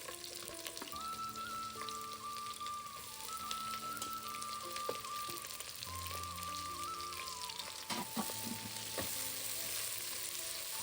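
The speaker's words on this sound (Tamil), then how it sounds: "இப்போ நம்ம வெங்காயம் போட்டுக்கலாம்." Onions fry in a pan for a homemade prawn biryani, giving a steady, gentle sizzle that continues throughout over a faint background tone.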